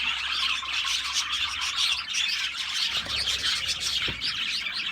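Oriental Frill pigeons and their chicks fill the air with dense, continuous chirping and tweeting, close and fairly loud, with no talking.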